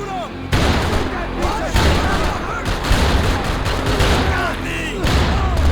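Dense gunfire crackles nonstop during a firefight against a sniper in Max Payne 3, a loud, sustained barrage of rapid shots and booms with voices shouting underneath.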